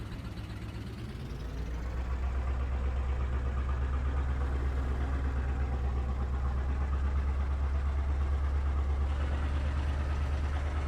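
Tractor engine idling in Farming Simulator 22, a steady low mechanical rumble that rises slightly in the first two seconds and then holds constant and even, with no talk.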